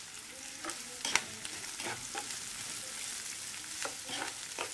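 Onions, garlic and chilies frying in a pan give a steady, even sizzle, with occasional clinks and scrapes of stirring. The sound is close and moderately quiet, with no talk.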